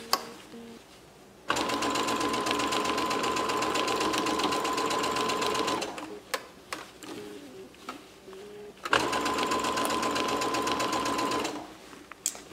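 Sewing machine stitching around the top of a fabric Christmas stocking, two long steady runs of rapid needle chatter separated by a pause with brief clicks and handling, close and loud.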